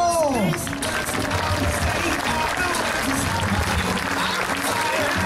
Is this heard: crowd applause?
yes